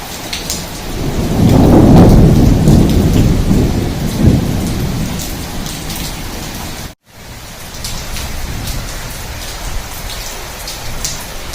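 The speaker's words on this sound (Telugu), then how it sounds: "ఇలా వర్షం బాగానే పడింది" Heavy rain pours onto a terrace while thunder rumbles loudly early on, a deep roll swelling and fading, followed by a steady hiss of downpour with a brief dropout.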